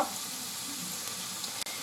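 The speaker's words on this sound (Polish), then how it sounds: "I je wyciągnę teraz tu i z bana smażyć." Steady sizzling of green asparagus frying in a pan over very high heat, a constant crackling hiss throughout, close up with no talking.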